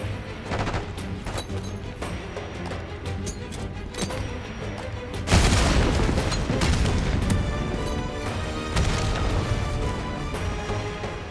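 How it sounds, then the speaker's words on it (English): A grenade explodes in Call of Duty Black Ops 6, a sudden loud blast roughly halfway through that cuts across steady gunfire and battle noise, followed by a lingering roar. "Tossing grenade."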